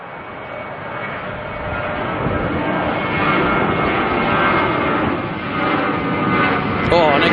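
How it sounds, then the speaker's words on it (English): Jetstar jet airliner rolling out for departure at Auckland Airport, a loud, rising jet engine roar that swells and stays strong throughout, heard from nearby. "Jetstar rolling on out here to Melbourne,"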